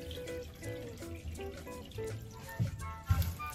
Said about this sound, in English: Now we're gonna switch the knob so the machine can drain.